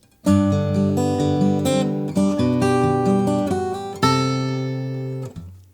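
Fingerpicked guitar plays a flowing Christmas tune melody with rippling arpeggiated chords over ringing bass notes, clean and close, with no talking.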